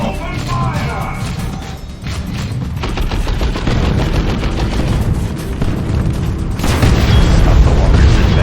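Loud, dense battlefield gunfire and explosive booms from the Dawn of War 2 strategy game roll continuously with sharp impacts, building in intensity toward the end. Shouted battle voices blend into the din.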